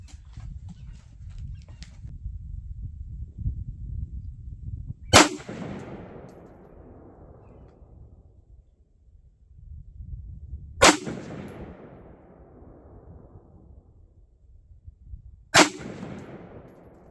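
Three loud rifle shots of 69 grain Sierra Match King 5.56 ammunition crack out about five seconds apart, each with a ringing decay, over a low rumbling background.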